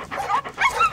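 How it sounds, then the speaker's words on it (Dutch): Dogs give short yips and high whimpers, close by, in a quick run of two or three bursts. "Volgens mij zijn het honden, Ernst."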